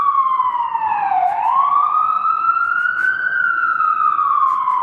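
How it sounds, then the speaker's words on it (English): An emergency vehicle siren wails continuously in a slow rising and falling sweep, loud and steady over faint background rumble. "You hear the sirens?"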